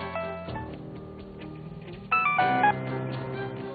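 A telephone is dialed in a dramatized scene, with a short series of electronic dial tones and beeps set against a soft musical background.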